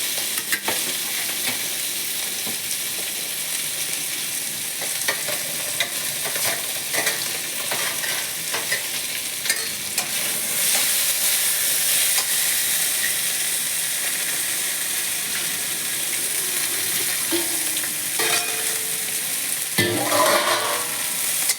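Crushed garlic and green chili frying in a pan for a snakehead fish mash dish, a steady close sizzle throughout with occasional scraping and stirring clinks, growing louder and brighter halfway through, no talking.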